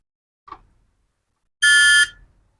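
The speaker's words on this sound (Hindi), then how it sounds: "जो खराब होगा चेक करने पर दोनों तरफ से बीप देगा गाइस।" A continuity check on a diode with a multimeter produces a faint click followed by a single loud, steady electronic beep lasting about half a second, heard alone in a quiet room.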